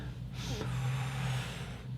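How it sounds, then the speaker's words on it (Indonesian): A single sharp intake of breath through the mouth before playing the trumpet, fairly quiet, over a low steady hum. "Tarik napas."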